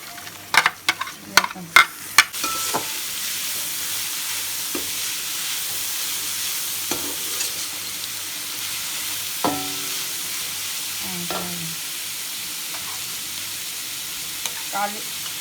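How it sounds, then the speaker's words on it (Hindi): Cabbage drops into a hot pan and is stir-fried for chicken vegetable macaroni, a burst of sharp clatters and scrapes at the start, then a steady sizzle with occasional spoon knocks. "अब मैं बंद गोभी डालने लगी, उसके बाद ये भी डाल देती हूँ।"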